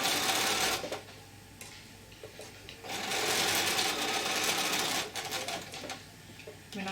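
Close, whirring bursts from a sewing machine stitching a small adult fabric face mask around a curve, with short pauses as the presser foot is lifted between runs.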